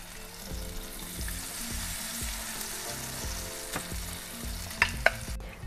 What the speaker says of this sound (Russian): Я уже на сковороде разогрела растительное масло, огонь средний.